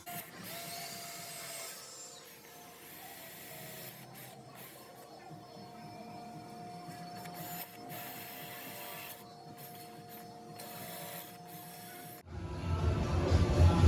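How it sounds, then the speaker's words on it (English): Drill boring pilot holes through a door astragal into the wood beneath: a quiet, steady motor whine that runs on for about twelve seconds, then a louder, rougher burst at the end. "They're going to drill all the way through and pilot into the wood."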